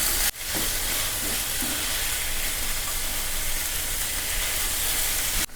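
Soft vegetables sauté for chapati kurma in a hot pan, giving a loud, steady close sizzle with a brief dip near the start and a short break at the very end.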